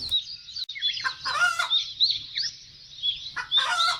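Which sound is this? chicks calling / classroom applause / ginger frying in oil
chicks calling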